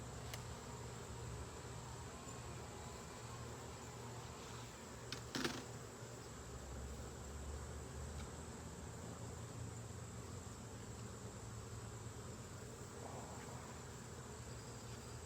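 Honey bees swarm in a steady, dense buzz around an opened beehive being checked for honey, a close continuous drone with one brief sharp knock midway and no voices.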